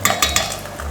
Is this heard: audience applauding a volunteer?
no